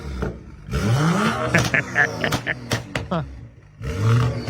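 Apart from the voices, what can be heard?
BMW X5M engine revving with muffler delete exhaust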